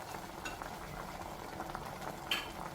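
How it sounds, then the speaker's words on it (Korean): Kimchi stew with pork and onion simmers in a pot, a faint, steady bubbling and soft sputtering with a small clink near the end and no talking. "고기를 양파랑 넣고 이렇게 한 소끔 끓여줍니다"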